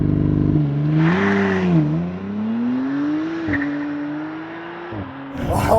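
A 2024 McLaren Artura with its 3-liter twin-turbo V6 hybrid launches hard, the engine note climbing through gear changes in a loud sustained interior drone, ending with a brief exclamation.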